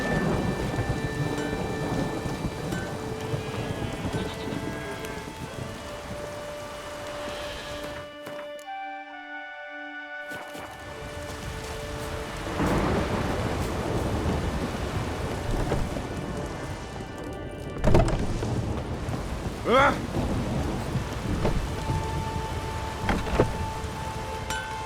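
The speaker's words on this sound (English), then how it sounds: "Maybe we needed a spot of rain." Heavy rain pours steadily in The Witcher 3 while thunder rolls and cracks, including a loud close strike, with a brief drop to silence partway through.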